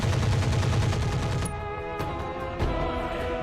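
Pirate machine guns firing in the RogueTech BattleTech mod, a dense rumbling burst of rapid shots that gives way to a few sharper, separate impacts and booms, heard alone.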